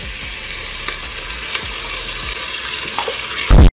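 Meat fries in a pot on a stovetop with a loud, continuous close sizzle and occasional stirring scrapes, ending in a sudden heavy thump.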